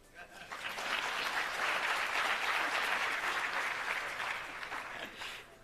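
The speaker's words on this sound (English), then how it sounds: "No applause?" A crowd at the launch of 4IR centres of excellence breaks into applause that swells quickly, holds as a thick, even patter of many clapping hands for several seconds, then fades out.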